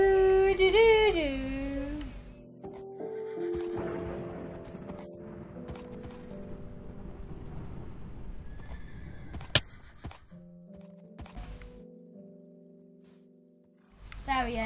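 Horses neigh in a loud, rising and falling whinny at the start, followed by softer clip-clop, scattered mechanical clicks and a sharp crack, with another whinny returning at the end.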